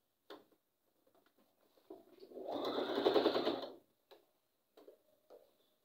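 A sewing machine runs a short back stitch at the end of a seam on a reversible bonnet without elastic, a steady close whirring burst of about a second and a half, framed by a few soft clicks and handling taps before and after.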